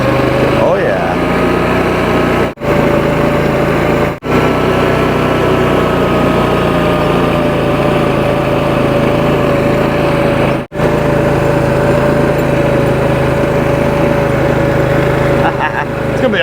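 Yamaha Terrapro side-by-side with a PTO-driven mower, its small engine running at a steady high idle throughout, loud and close, with a voice briefly audible over it.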